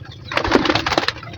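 Pigeons kept in a backyard loft give a brief, close burst of throaty cooing, over in little more than a second.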